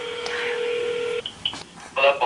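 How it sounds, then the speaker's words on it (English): A telephone keypad tone sounds steadily for about a second, followed by a few short dialing beeps and then a brief burst of higher tones, all fairly close and clear with no talk over it. "Dialing?"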